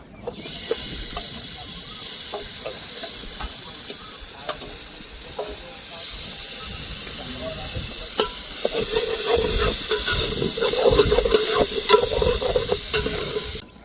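Spiced gravy for oysters, made with oil, masala, turmeric and salt, bubbles and sizzles steadily in a pot over an open fire outdoors, with occasional stirring scrapes and a hiss that grows louder toward the end.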